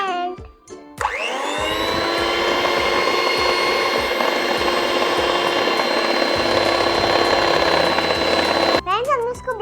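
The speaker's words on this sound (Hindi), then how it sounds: "अब हम इसको करेंगे ब्लेंड।" A blender whirs steadily and loudly for about eight seconds as it mixes cupcake batter with flour for Oreo strawberry cupcakes, starting abruptly after a brief pause and stopping near the end.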